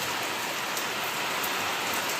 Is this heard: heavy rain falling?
yes